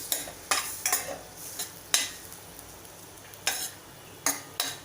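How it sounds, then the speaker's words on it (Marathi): Dates sautéed in ghee for sheer khurma, a soft low sizzle under repeated sharp spoon scrapes and clinks against the pan, coming in irregular bursts close by. "परतून घ्यायचे आहे तुपात। अर्धा मिनिट असे छान परतून घ्यायचे।"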